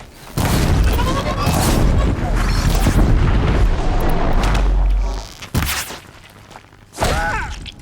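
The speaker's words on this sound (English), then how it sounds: "Oh, shooting firebomb." Heavy, rumbling firebomb explosions in Horizon Zero Dawn roll through in a sustained burst, then a second blast lands near the end, with a voice talking over the action.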